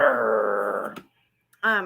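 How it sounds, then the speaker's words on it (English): A dog growls and barks in a sustained loud burst for about a second, then falls silent before a short, higher whining yip. "stop barking"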